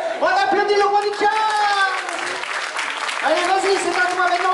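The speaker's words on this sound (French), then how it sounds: "On applaudit le roi du jazz!" Audience applause for a child at a school event, broad steady clapping under loud excited voices and shouting that ride over it throughout.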